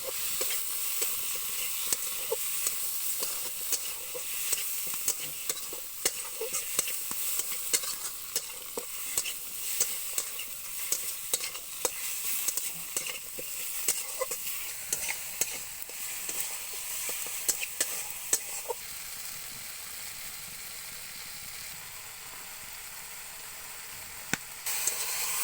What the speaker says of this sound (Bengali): টমেটো দিয়ে ভালোভাবে মশলাটা কষিয়ে নিতে হবে।